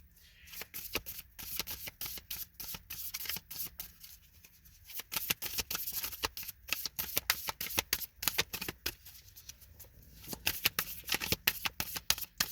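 A deck of Star Codes Astro Oracle cards is shuffled by hand, giving rapid, crisp riffling bursts in an uneven rhythm with short pauses, close and clear with no talking.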